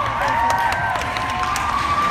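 An audience at a VidCon panel cheers and screams, a bright wash of high-pitched shrieks and whoops from a large crowd, steady and lively for a couple of seconds.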